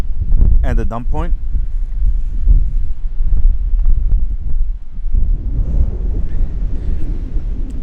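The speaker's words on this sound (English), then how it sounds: "It's windy here as well." Gusty wind buffets the microphone with low rumbling thumps throughout, and a brief voice-like sound comes through early on.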